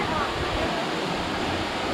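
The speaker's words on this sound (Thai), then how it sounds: "มันตกจากซอกหินลงมาค่ะ น้ำตกจอกกระดิ่ง" Jok Kradin waterfall in Kanchanaburi, Thailand, water falling from rock crevices, makes a continuous loud rushing roar close by, broadband and unbroken throughout.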